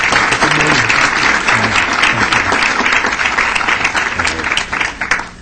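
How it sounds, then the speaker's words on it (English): A Las Vegas City Council chamber audience applauds visiting health district doctors, with loud continuous clapping that holds steady before tapering slightly at the end, plus a few voices mixed in. "go ahead and give them a round of applause"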